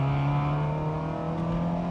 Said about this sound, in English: this engine, the sound, it might have a little bit of work on that exhaust, but the noise that exhaust makes